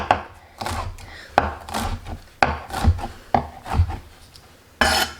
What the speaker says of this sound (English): I'm just going to go ahead and run my knife through them.